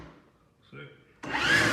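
A Milwaukee M18 Fuel battery string trimmer motor whirs up sharply and runs at a steady high pitch after a short stretch of quiet and a faint click.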